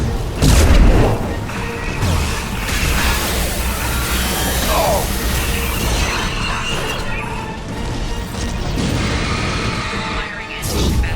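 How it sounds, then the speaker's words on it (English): Anti-ship batteries aboard the Normandy firing at a Collector vessel in Mass Effect 2, a dense, loud barrage of booming blasts and crashing impacts that rolls on continuously for the whole stretch, with no one talking. "Firing anti-ship batteries at collector vessel."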